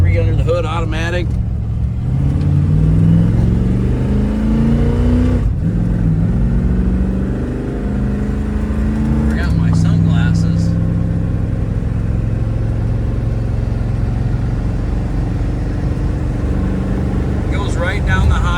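A 1961 Chevrolet Impala bubble top with a fuel-injected 283 V8 and automatic transmission cruises down the highway, its steady engine drone and road rumble continuous, with someone talking over it at times.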